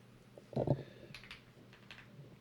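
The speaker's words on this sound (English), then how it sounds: "The keyboard is angled." A computer keyboard clatters faintly, with a short burst of quick keystrokes followed by a few scattered lighter taps, quiet and close.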